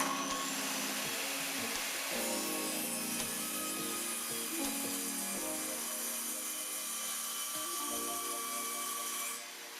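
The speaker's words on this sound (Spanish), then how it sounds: "Prendemos la sierra antes de entrar en contacto con la tabla y nos vamos aproximando lentamente. La sierra con las dos manos, nos pegamos a la prensa y cortamos." A circular saw, spun up before reaching the wooden board, slices steadily through it against a guide in one continuous loud whining cut, with the motor's roar dropping away as the blade exits at the end.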